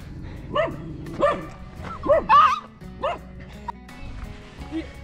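Several dogs barking in short, repeated yelps and bow-wows outdoors during a tractor recovery, close and fairly loud, with a few whimpering notes between barks and some background talk.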